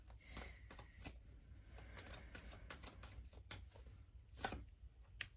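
Tarot cards are shuffled by hand, quiet irregular flicks and snaps in close succession, with a few sharper clicks near the end.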